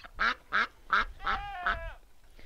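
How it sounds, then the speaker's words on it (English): Several noisy ducks quack beside a garden plot, giving five or six loud, raspy calls in quick succession, close by and with no talk over them. "there are some very noisy ducks coming to visit me"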